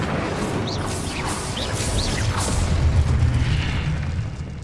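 Spell blasts in the video game Hogwarts Legacy: a loud, continuous rumble of booming explosions with sharp whooshing zips layered over it, and no talking.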